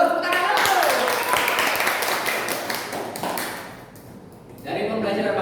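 Elementary schoolchildren clapping together in a classroom, a burst of quick, scattered hand claps that fades after a few seconds, with a teacher talking over and after it.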